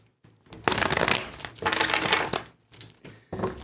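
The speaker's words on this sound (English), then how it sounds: "All right, one more shuffle here." Tarot cards are shuffled close up in short crisp riffling bursts with brief pauses between them, fairly quiet, with no voices over them.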